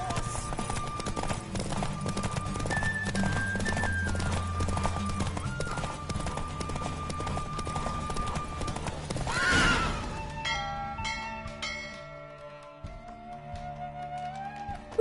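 A horse gallops in a race in The Witcher 3, with steady rapid hoofbeats and whinnies over a layer of game music; the hoofbeats fade near the end as the music continues alone.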